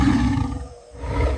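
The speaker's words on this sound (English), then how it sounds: "Then he hears another tiger." A tiger roars in the wild, a loud, low, rumbling call that fills most of the moment, dipping briefly in the middle before swelling again.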